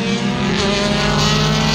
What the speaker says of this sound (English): I can't tell which group of cars is loudest because they're all loud. Right now it's kind of the open wheel cars